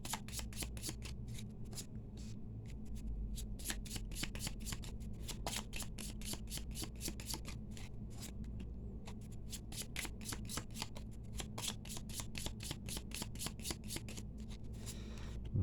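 Gypsy deck cards being handled and laid out in piles, a fast run of crisp, evenly spaced flicks and slaps, close and quiet, with no talking.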